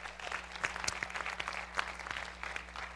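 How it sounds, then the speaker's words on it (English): An audience gives a round of applause at a community gathering, producing steady, moderately faint clapping with a few sharper individual claps standing out. The clapping continues at an even level for about three seconds. "Let's give her another big round of applause."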